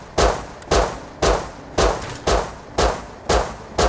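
Gunfire in the Rust survival game: seven evenly spaced loud metallic shots ring out one after another at a steady semi-automatic rhythm, each with a short decaying tail.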